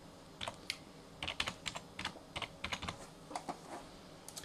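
Typing on a computer keyboard while entering a command in Ubuntu 12.10, a quiet close series of irregular key clicks in short bursts over a faint background hum.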